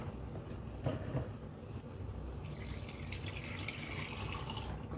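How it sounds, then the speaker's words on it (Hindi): Water poured into a pan of fried spices while cooking an elephant foot yam curry, a steady close pouring and filling wash running throughout with a few brief splashy bursts near the start. "एहिमे जते पानी चाही, पाइक के जते पानी चाही से राखि दै छियै"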